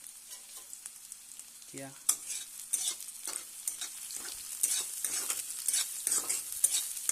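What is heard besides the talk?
frying and stirring onions in oil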